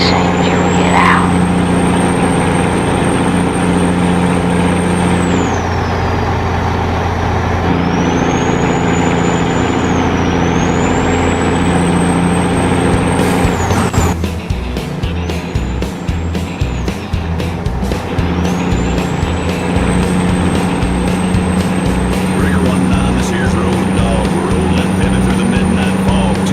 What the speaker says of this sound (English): You don't want to miss that sweet diesel rumble and the good tunes rolling in